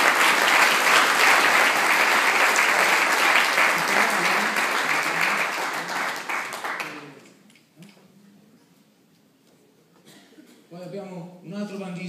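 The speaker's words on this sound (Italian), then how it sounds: "facciamo un applauso." Audience applause for a late alto saxophone player of a band, dense clapping filling the first seven seconds, then dying away to near quiet before voices begin at the end.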